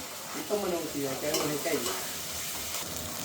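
Onions frying in a pan for chicken curry give a steady sizzle with stirring and scraping, a few tonal clinks early on, fairly close and alone without talk.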